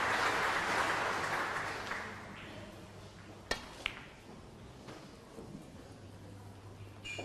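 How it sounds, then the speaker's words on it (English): Faint, distant applause from other tables at the 2017 Paul Hunter Women's Classic snooker tournament, strongest at the start and fading after a couple of seconds, with a few sharp clicks over a low hum. "you can hear the applause from the other tables"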